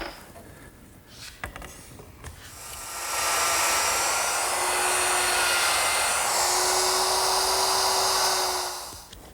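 A router cutting a groove in a wooden workpiece clamped for an umbrella stand build: a few handling knocks, then the motor spins up into a loud, steady high whine that holds for several seconds before winding down.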